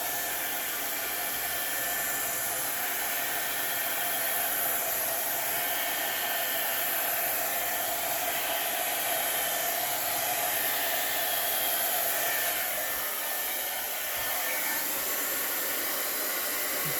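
A hair dryer blows steadily on acrylic paint on canvas, a continuous loud whooshing hiss that runs unbroken without any talk.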